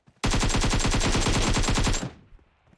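Automatic gunfire in the video game PUBG Mobile: a single long burst of rapid, evenly spaced shots lasting about two seconds, loud and close, then stopping abruptly with a brief tail.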